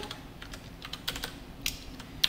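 Quiet, quick clicks of a computer keyboard as C programming code is typed, a short run of soft keystrokes with a few sharper taps, close and alone.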